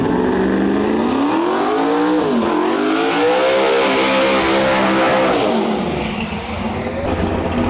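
An Edge Mustang drag racing car makes an X275 run at a drag racing event. The engine revs loudly, its pitch climbing through gear changes as the car accelerates hard away, then fades slightly near the end.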